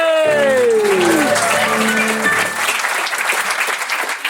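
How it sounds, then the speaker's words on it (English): An audience applauds loudly and steadily after a draw between two contestants, Ellie and Natalie, at a live show. The clapping begins under a sliding sung or musical tone and fades slightly toward the end. "A round of applause for Ellie and Natalie."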